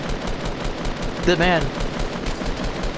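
Gunfire in a Fortnite 3v3 fight, rapid repeated shots running steadily through the clip with a brief voice speaking over it.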